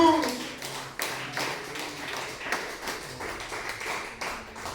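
A church congregation claps together at a worship service, steady dense applause alone with a few sharper taps standing out, moderately loud and close.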